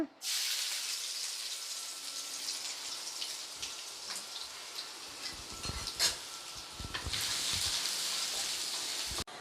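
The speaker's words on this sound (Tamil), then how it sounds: "எண்ணெய் காஞ்ச உடனே இஞ்சி பூண்டு பொடியாக நறுக்கி வச்சுருக்கேன், அதை சேர்த்துக்குங்க." Finely chopped ginger and garlic hit hot oil in a pan, a loud, steady sizzling hiss with scattered crackles and pops, stirring clanks midway, running alone without talk.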